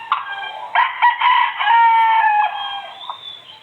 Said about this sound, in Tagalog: sige panuktugaok ang mga manok